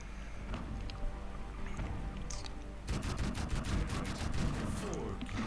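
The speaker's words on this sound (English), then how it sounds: "Just tried to finish off our clip on that Panzer II but missed it." A Panzer II's 2 cm Flak 38 autocannon in a tank video game fires a rapid burst of sharp shots in the second half, over steady engine rumble, at low overall volume.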